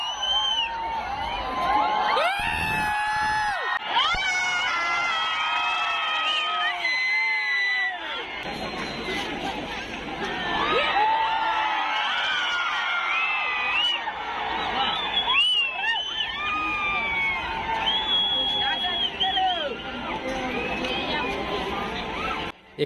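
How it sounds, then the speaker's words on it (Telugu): A large crowd at RK Beach in Visakhapatnam shouts, whoops and cheers loudly during a naval demonstration and drone show, with high screams and children's voices rising in repeated waves. "ఇక్కడ అరిచే అరుపులకు ఆర్కే బీచే కాకుండా వైజాగ్ మొత్తం ఊగిపోయింది."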